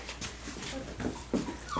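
A Mini Whoodle puppy stirring awake, making soft whimpers and small yips with light snuffling, close and quiet with no talking.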